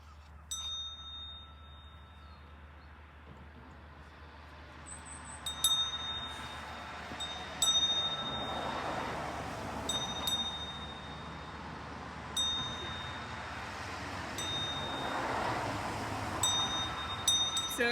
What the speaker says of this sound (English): try and move very carefully without ringing that bell